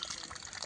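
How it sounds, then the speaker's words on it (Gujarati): Water running steadily into a container as it fills, a short, close gush of flowing liquid heard on its own. "પાણી ભરવા આવ્યો હું"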